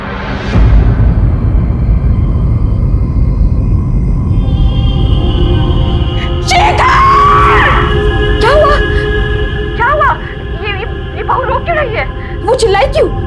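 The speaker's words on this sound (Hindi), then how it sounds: "वो चिल्लाई क्यों?" A woman screams and wails in anguish at a hospital, her cries rising in several drawn-out, wavering bursts over a loud, steady background rush.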